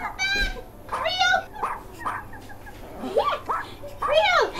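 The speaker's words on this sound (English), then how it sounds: "Puppy! The puppy! Come back!" A puppy barks in several short yelps spread across a few seconds, close and loud, mixed with excited voices calling out.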